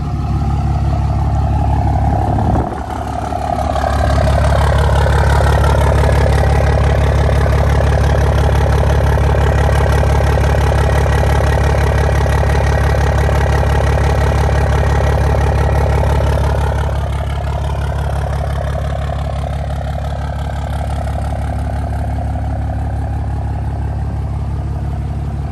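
A diesel pickup truck with a swapped 3G Cummins engine idles loud and close, a steady deep rumble held almost unchanged across the whole stretch, with a brief blip near the start.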